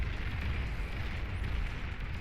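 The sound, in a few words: explosions in Beyond All Reason video game battle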